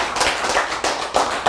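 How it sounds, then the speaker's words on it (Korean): A church congregation clapping in a burst of quick, loud, irregular hand claps, close and continuous for a moment with no voices over it. "박수! 와!"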